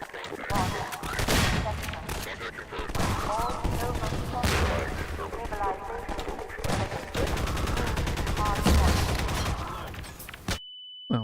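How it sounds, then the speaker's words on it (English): Dense, continuous gunfire and explosions from the first-person shooter Half-Life 2 played in Synergy co-op, loud and chaotic with overlapping bursts and blasts throughout, stopping abruptly near the end before a brief tone. "All I can hear is explosions and guns going off all the time."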